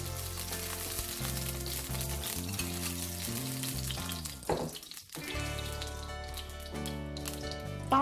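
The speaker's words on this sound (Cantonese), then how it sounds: "爆一爆個蒜蓉" Minced garlic sizzles as it fries in a little oil in a wok for a broccolini dish with oyster sauce, a steady, close crackle under soft background music.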